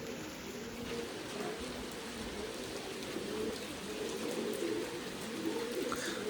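Large pigeons perched in steady rain give soft, low cooing calls over the constant patter and hiss of falling rain; the birds sound fairly close and moderately quiet.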